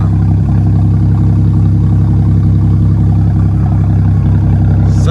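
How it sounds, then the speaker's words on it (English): BMW car engine idling right after new downpipes were fitted, a loud, steady low rumble held close up with no change in pitch for the whole stretch. "Such a nice idle."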